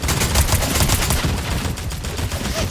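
Machine-gun fire in a video game, heard as a loud, dense stream of rapid shots that continues without a break.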